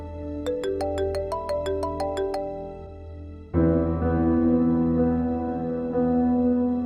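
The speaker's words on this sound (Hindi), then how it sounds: "किसका फोन है?" A phone rings with an incoming call, a bright repeating electronic ringtone melody that plays a rising pattern of tones, then shifts to a fuller sustained chord phrase, loud and close in a quiet room.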